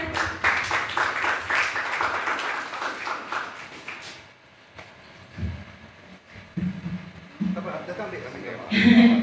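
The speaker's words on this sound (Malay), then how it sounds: "Okey, tepuk tangan." At a residents' association annual general meeting, a crowd breaks into short clapping that fades out after about four seconds, followed by scattered shuffling, knocks and murmured talk in the hall.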